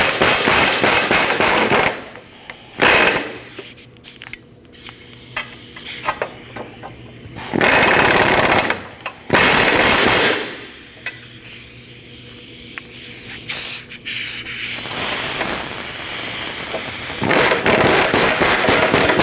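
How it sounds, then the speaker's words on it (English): Ball joint nuts on a 2003-2008 Subaru Forester's front lower ball joints being run down with a power tool, loud repeated bursts of rattling impact hammering separated by brief pauses. "Install your two nuts and tighten them down."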